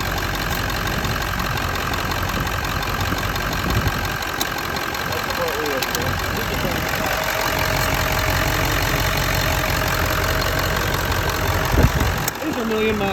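A 2001 Ford F-350 with the 7.3L diesel engine idles steadily with blow-by, a continuous rattling clatter heard up close, with a person talking over it.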